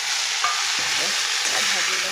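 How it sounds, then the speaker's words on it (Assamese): Spices and chickpeas sizzle loudly in a wok of hot oil, a dense, steady hiss with scraping stir sounds running through it. "মছলাখিনি দি দিলোঁ চানাখিনি দি দিলোঁ"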